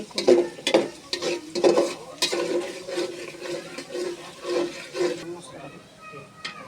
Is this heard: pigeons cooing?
no